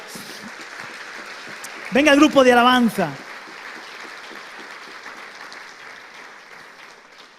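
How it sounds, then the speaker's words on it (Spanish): A church congregation applauds with steady clapping that runs through the whole stretch, while someone briefly speaks loudly over it partway through. "Den un aplauso al Señor, aleluya."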